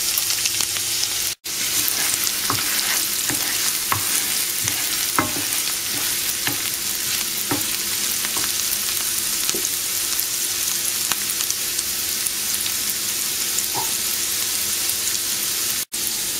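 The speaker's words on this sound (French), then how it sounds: "vous allez mettre les oignons dans la poêle avec un peu de beurre et vous allez les faire revenir" Onions fry in butter in a pan with a constant close sizzle, broken by scattered pops and scraping stirs, with no voices.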